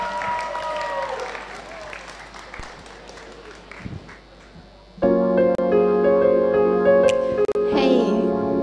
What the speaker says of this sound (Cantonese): 俾啲掌聲啊！